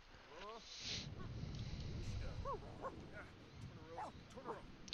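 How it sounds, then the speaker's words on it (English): Dogs fight in The Sims video game, a flurry of rapid yips, barks and whimpers under a game's background sound, with a voice talking over the scuffle. "The dogs are fighting."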